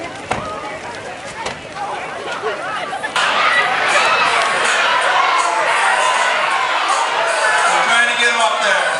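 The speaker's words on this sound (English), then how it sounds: "give all them people a round of applause out there" A crowd at a live event cheers and applauds loudly and continuously, with shouts and scattered voices mixed in. The burst swells suddenly after a few seconds of chatter and stays strong to the end.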